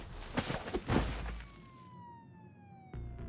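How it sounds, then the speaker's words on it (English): Police sirens in the Jenny LeClue video game wail at a moderate distance, their falling tones drawn out after a short burst of noisy thuds, with no talking. "As the sirens grew"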